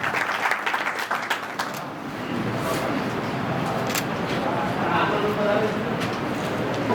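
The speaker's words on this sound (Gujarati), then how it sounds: "જોરદાર તાળીઓથી વધાવી બળવંતભાઈ" Applause welcoming a guest at a community gathering in Chotila, a broad, steady clapping from a crowd that swells after a brief noisier opening and carries on evenly to the end.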